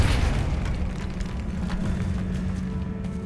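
A Depulso force spell cast in the Hogwarts Legacy video game lands as a loud, booming burst with a heavy low rumble that decays over a few seconds.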